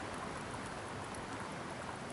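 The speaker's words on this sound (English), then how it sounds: "It's hailing and raining a little bit." Hail and light rain fall steadily outdoors in spring woods, a dense, even patter with no distinct breaks, moderately quiet and continuous throughout.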